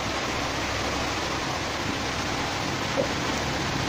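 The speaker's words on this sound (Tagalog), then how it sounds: "maingay kasi malakas yung ulan" Steady, dense hiss of heavy rain pouring down, loud and unbroken throughout with no voices.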